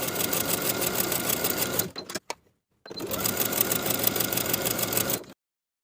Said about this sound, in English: Edge stitch along both long edges for both pieces.